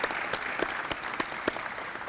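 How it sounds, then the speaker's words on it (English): A crowd gives a short burst of steady clapping at a grand opening ceremony for a college veterans and families center, moderately distant and alone without talk. "Yes, give him a round of applause."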